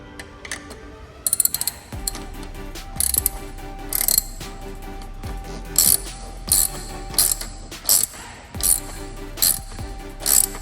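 Ratchet wrench tightening the clamp on an aFe Takeda intake for a 2018-2021 Honda Accord, repeated close clicking ratchet strokes in uneven bursts with metallic ticks between them.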